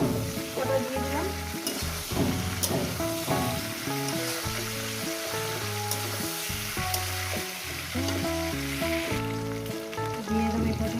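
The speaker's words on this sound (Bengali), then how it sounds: "এটা আমি ভাজবো আরো 6-7 মিনিট ধরে" Vegetable chorchori of eggplant and cauliflower with green chilies fries in a pan, a soft sizzle beneath prominent background music with stirring sounds.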